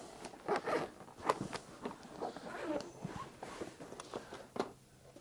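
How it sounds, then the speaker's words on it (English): A zipper on a case is pulled open in several short rasping strokes, close and fairly loud, with small pauses and handling noise between pulls. "There's something in the zipper."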